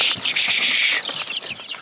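Ten-day-old light-breed chicks crowded in a shipping box, giving a dense, continuous chorus of high peeping, loud and close, with no talk over it.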